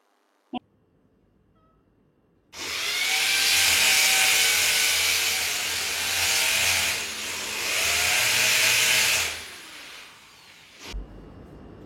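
A power drill whines loudly and steadily into a wall for about seven seconds, then cuts off, with a sharp knock just before it starts.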